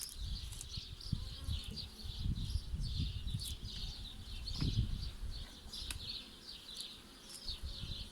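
A steady hum of many honeybees buzzing close by around a hive, continuous and busy, with occasional louder passes of individual insects near the listener.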